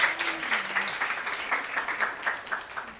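Audience at a university talk applauding a guest speaker, a steady patter of many hands clapping at moderate distance, with a brief voice underneath early on.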